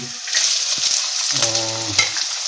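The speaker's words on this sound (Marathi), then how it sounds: "मस्त शॅलो फ्राय करून घ्यायच्या थोड्याशा." Carrots and other vegetables shallow frying in a pan for a horsegram soup, a steady close sizzle with brief stirring scrapes and a louder burst of spitting oil midway, no voices.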